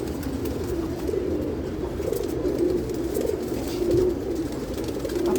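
Racing pigeons kept for competitive flying coo softly and repeatedly in a loft, a steady low murmuring close by with continuous background hum and no talk.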